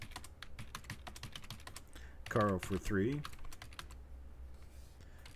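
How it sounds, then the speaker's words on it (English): Fast, uneven clatter of keys on a computer keyboard runs throughout, close and fairly quiet, with someone speaking briefly over it partway through. "I cannot believe I am typing so poorly"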